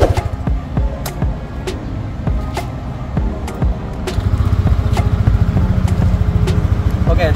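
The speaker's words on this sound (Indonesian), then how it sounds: "Lihat, digas pun enak ya, mulus ya suaranya ya." Engine of a 2023 Yamaha Lexi automatic scooter revved up and held, a steady close motor drone with small throttle swells and a rise in level partway through, running smooth without rough knocks.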